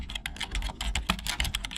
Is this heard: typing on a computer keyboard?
yes